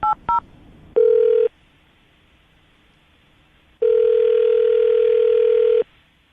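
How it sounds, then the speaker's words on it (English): Telephone keypad dialing during a morning radio show call: two quick dual-tone beeps, then a short steady tone and, after a pause, a long sustained tone, clear and close with no talking. "I'm going to dial the phone number right now"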